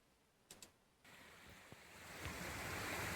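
A wide, deep mountain valley stream flows below a stone retaining wall, a steady rushing wash of water rising in level after a couple of faint knocks.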